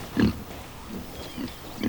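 Pigs from a herd on a farm with an electrified fence, a few low grunts, one louder near the start and softer ones following at intervals, over faint outdoor background noise.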